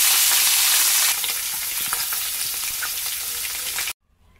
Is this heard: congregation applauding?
no